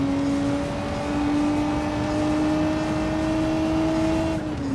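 A racing car engine in Gran Turismo 7 holds a steady, buzzing drone under throttle, its pitch creeping slightly and dipping just at the end, with no talking over it.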